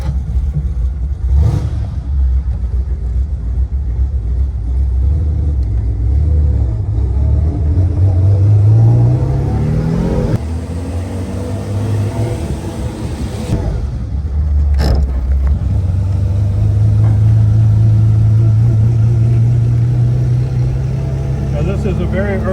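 A 1953 Ferrari 212 Europa engine loud and close, cranking and firing, then revving up and down in long rising sweeps before settling to a rumbling idle, with someone talking over it.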